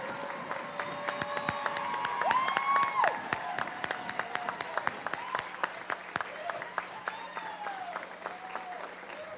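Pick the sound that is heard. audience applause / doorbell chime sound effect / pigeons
audience applause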